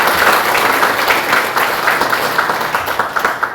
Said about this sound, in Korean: 이분들에게도 박수 한번 보내주시기 바랍니다